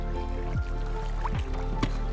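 Flowing water in the Minecraft modpack Monifactory, a continuous liquid trickle with scattered drips and bubbly squishes over a steady low game drone, and no voice heard.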